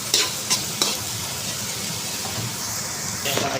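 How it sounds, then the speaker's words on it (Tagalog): Hotdog sautéing in a pan for Filipino sopas, a steady crackling sizzle with a few sharp utensil scrapes and clinks near the start and again at the end. "Lakay, ginisa lang natin yung hotdog."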